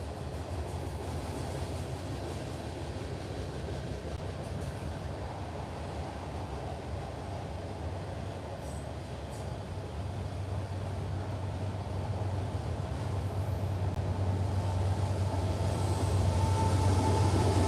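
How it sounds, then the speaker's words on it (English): A loud train rumbles past near a flooded boat dock area, its steady low roar swelling slightly toward the end, with wind buffeting the microphone throughout. "And that train's loud."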